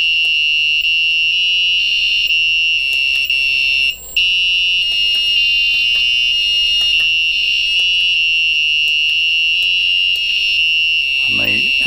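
A cheap electronics kit game sounds a loud, steady high-pitched electronic beep from its sounder, running continuously for nearly the whole stretch with one brief break, and a faint voice briefly at the end.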